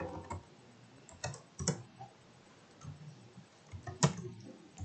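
Keys clicking on a computer keyboard in short irregular bursts, with a few sharper strikes standing out, close and fairly quiet with no voices.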